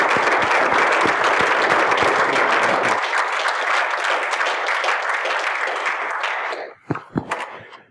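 An audience breaks into sustained, dense applause welcoming a lecturer to the lectern, loud and continuous before thinning out and ending in a few scattered claps and rustles.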